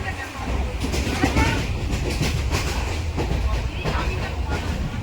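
A passenger train carriage rolls and jolts along the rails, giving a continuous loud low rumble with rhythmic clickety-clack beats close by. Faint voices may sit under the noise.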